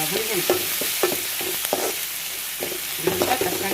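Tomatoes with a pinch of turmeric, plus ginger-garlic paste, are stirred and fried in a pan: a close, steady sizzle broken by repeated scraping strokes of a spoon, with no talking.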